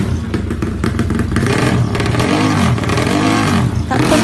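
A tuned motorcycle engine with upgraded internal parts revs loudly and continuously, a deep rumbling roar with rising and falling throttle surges and some mechanical clatter, close and dominant throughout.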